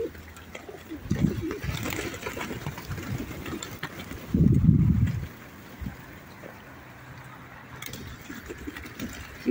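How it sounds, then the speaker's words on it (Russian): Pigeons cooing near a stadium, low soft coos rising in a few bursts, with a louder close one midway, over a steady background hum that may be an idling engine. "вот этот белый такой красивый голубь"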